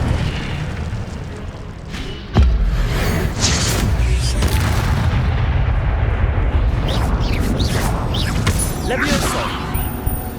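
An Incendio fire spell is cast during Hogwarts Legacy combat on PS5. A sharp, heavy boom rises out of continuous spell-fighting noise, and a voice calls out over the clash.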